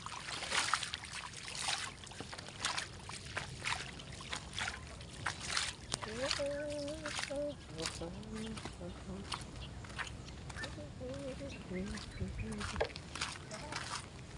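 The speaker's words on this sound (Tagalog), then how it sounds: "Lakas ng agos. Lakas ng baha." Steady rushing floodwater flowing strongly during heavy rain, a continuous broadband roar with splashes, while a voice talks intermittently over it.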